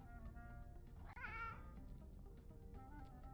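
A single cartoonish cat meow from the meow button in the Cat Secretary video game, rising and falling over about half a second against a steady low game backdrop, quiet overall.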